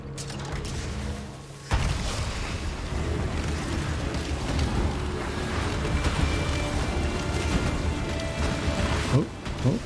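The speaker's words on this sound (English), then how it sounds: "let's detonate" Detonating blasts in the Path of Exile video game, a dense rumbling barrage of booms and crashes that runs nearly continuously after a sudden onset, loud and layered with game effects.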